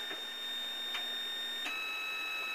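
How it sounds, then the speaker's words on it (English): A 500 ohm center-tap transformer in a homemade noisemaker circuit squeals with a faint, steady high-pitched whine and a few soft ticks, heard alone. "using this transformer. I don't know if you can hear it, but it's squealing away right now."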